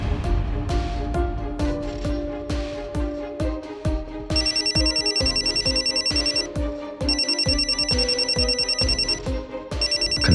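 Phone ringtone for an incoming call, a bright electronic melody of rapid repeated notes with a high chiming layer joining partway, loud and close, sounding alone for about ten seconds.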